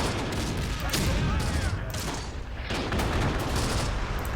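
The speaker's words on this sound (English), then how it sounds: "And they're getting hit continuously with mortar rounds." Dense gunfire and mortar explosions from the WW2 North African campaign in the video game Close Combat, a continuous loud barrage of overlapping shots and booms.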